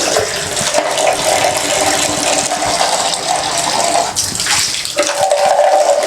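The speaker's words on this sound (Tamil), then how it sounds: "இப்போ அதான் தண்ணி பிடிச்சி ஊற்றிட்டாலே போதும்." Water poured over a bathroom floor during cleaning, a steady, close, continuous splashing gush that briefly dips before resuming at full strength, with no voices.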